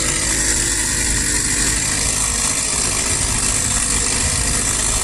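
The small engine of a motorized bicycle runs continuously at a steady, loud, buzzing idle, close by, with no speech over it.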